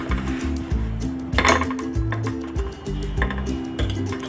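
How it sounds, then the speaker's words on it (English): Paratha cooking in a pan, with repeated clinks and scrapes of a utensil against the pan as the flatbread is flipped, loud and close, a few brief sizzling bursts between the metal knocks. "Now I'm going to flip the paratha."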